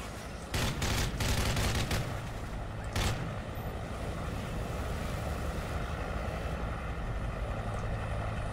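Gunfire in Call of Duty MW3 multiplayer, several sharp loud bursts in the first few seconds with a helicopter's droning hum beneath, then only the steady engine drone.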